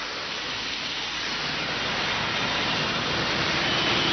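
Heavy rain in Delhi, a steady dense hiss of downpour that stays constant and fairly loud throughout, with no voices over it.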